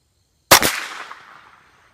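A single sharp gunshot from a Ruger 10/22 Takedown rifle cracks out close and loud, then a short echoing tail fades over about a second in open air.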